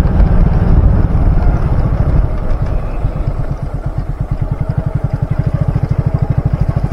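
A motorcycle rides along a road in strong wind, its engine a loud, close, rapid rhythmic putter under heavy wind rumble, with no talking.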